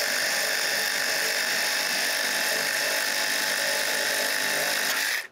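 A powered ratchet whirs steadily as it backs out headlight bolts on a truck, a loud, close, continuous motor whine that holds evenly for about five seconds and then cuts off abruptly.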